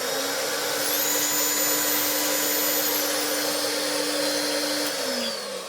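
A cordless 20V brushless Hoover Hooverette vacuum cleaner runs with a steady, close whine and airy roar, holding one pitch for several seconds before the motor winds down near the end.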